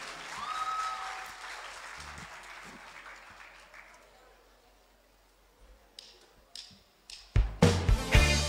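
At the Myanmar Star singing competition duet round, a host speaks over a quiet hall before the audience breaks into a short, sharp burst of clapping that welcomes the singers.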